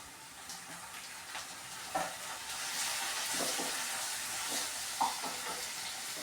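Crushed shallots frying in a pan, a soft steady sizzle with a few stirring knocks and scrapes, fairly quiet and with no talk.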